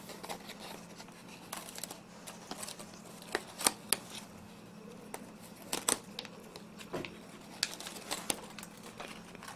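A sheet of origami paper is folded back along its creases, giving quiet, scattered crinkles and sharp paper snaps separated by short pauses.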